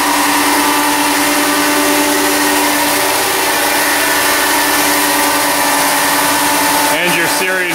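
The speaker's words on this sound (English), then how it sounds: "Here's your actual Eco tank. Along with your large gusher pumps." Large gusher pumps on an e-coat paint tank run with a loud, steady mechanical drone and hum in an industrial plant, ending in a few brief knocks.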